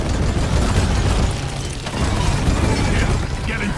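An incendiary grenade goes off during a Greenbeard video game mission, a loud, dense roar that fills the whole stretch with only a brief dip partway through.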